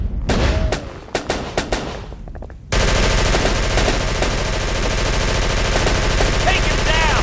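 Heavy sustained gunfire erupts in Call of Cthulhu: Dark Corners of the Earth, first scattered loud shots and then a dense continuous barrage of rapid fire, with voices shouting through it.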